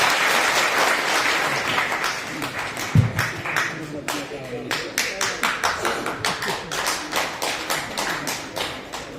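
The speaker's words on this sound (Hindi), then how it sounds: "पूरा ताली बजा देंगे आप लोग" A crowd at a public meeting of the Arjak Sangh in Bihar claps, a loud burst that settles into steady rhythmic clapping, with voices mixed in.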